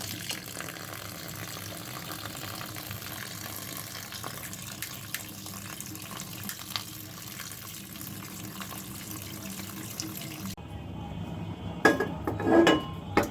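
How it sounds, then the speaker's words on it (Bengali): Cold tap water runs steadily over boiled pasta in a sink, a continuous hiss that ends with a few sharp clinks of a pot and utensils. "এরপর ঠান্ডা পানি দিয়ে ধুয়ে ফেলতে হবে।"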